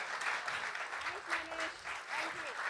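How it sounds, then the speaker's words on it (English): Audience applause after a dramatized stage enactment of a short story, a crowd's sustained clapping heard at a distance with faint voices mixed in. "Let's have a huge round of applause for such a fantabulous performance out here."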